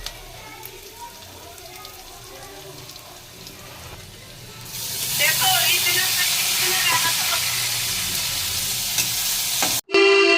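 Crushed ginger and garlic go into hot oil in a home kitchen pan. Quiet clinks and stirring give way to a loud, steady sizzle halfway through, which cuts out briefly just before the end.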